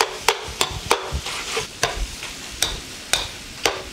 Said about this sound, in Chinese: 倒入皮蛋，直接用勺子给它压碎